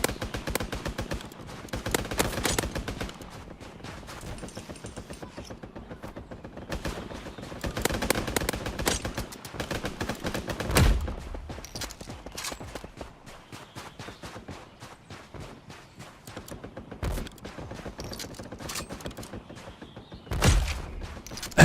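Rapid bursts of gunfire from the video game Mini Royale, running as dense automatic volleys with a few heavier single shots standing out, loud and continuous throughout.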